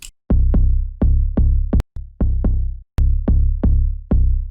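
A tech house bass line run through a sound equalizer, loud punchy synth bass notes plucked in a syncopated repeating pattern with short gaps between phrases.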